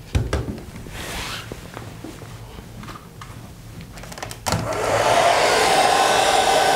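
A hair dryer roars to life partway through, a steady loud blowing hiss that follows some quieter handling clatter.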